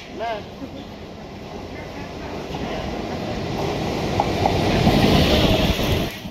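Simhadri Express pulling into the station, a low rumble that builds steadily over several seconds with wind-like hiss, while people talk faintly nearby.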